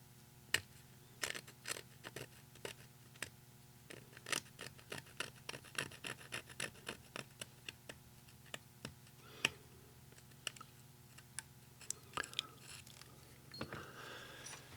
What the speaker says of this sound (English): remove foam in real time